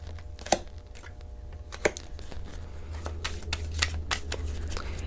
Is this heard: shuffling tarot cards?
yes